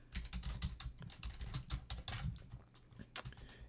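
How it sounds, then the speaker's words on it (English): Computer keyboard keys pressed in quick irregular bursts, a close clatter of sharp clicks that keeps going for a few seconds, with no talking. "And every time you press the keyboard,"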